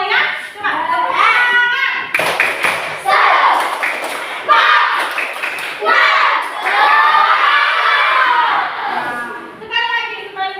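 Children perform a spirit clap (tepuk semangat) together, rhythmic bursts of hand claps and thumps mixed with loud chanting voices and shouts from the group, close and energetic throughout.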